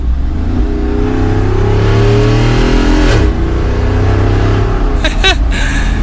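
Jeep Wrangler 392 with its V8 engine revving hard on the move, a loud deep rumble that climbs and swells, dips briefly, then surges again with rising pitch toward the end.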